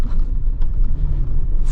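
A 2024 Toyota Tacoma TRD Off Road with a 2.4 liter turbo engine climbs a desert sand dune, giving a deep, steady low rumble heard from inside the cab, loud and continuous for a brief moment.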